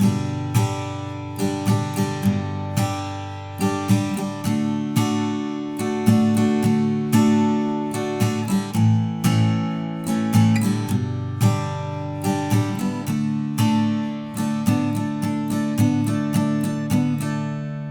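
Guitar chords strummed in a steady rhythm, bright and close, with repeated accented downstrokes and no talking.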